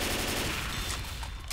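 Rapid automatic gunfire in the video game Left 4 Dead 2, a dense continuous burst of shots, loud and steady for the whole moment with no speech.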